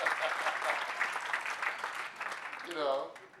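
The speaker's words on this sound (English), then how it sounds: "Give a round of applause." An audience claps in a sustained burst of applause at an outdoor food festival at Sandringham, dense and steady throughout, with a voice rising near the end.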